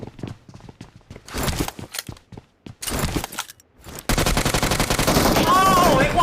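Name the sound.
gunfire in a shooting video game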